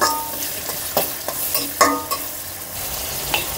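Chopped shrimp and greens frying in a pan, with a soft sizzle under repeated scraping stirs that come in irregular clattering strokes.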